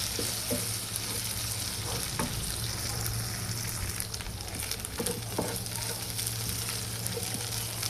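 Fish fat curry fries in a pan with a constant dense sizzle and crackle, steady and fairly close, with occasional stirring scrapes and no talking.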